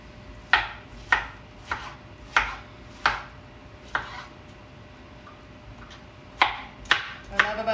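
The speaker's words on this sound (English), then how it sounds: "What I love about our ceramic knives goes right through tomatoes without squishing them." A ceramic knife slicing through whole tomatoes on a cutting board, a series of crisp, close chopping strokes in uneven rhythm, a cluster of cuts, a pause, then a few more.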